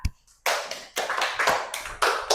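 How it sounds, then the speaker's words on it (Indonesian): Schoolchildren clap in a classroom during an Akidah Akhlak lesson, a few bursts of quick hand claps close by after a short pause, loud and uneven. "Bagus, tepuk tangan."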